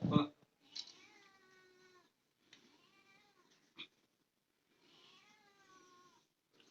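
A kitten that has fallen into a 40-foot well meows in a few rising, drawn-out cries, spaced apart and faint with distance, with a brief knock between them and no other sound.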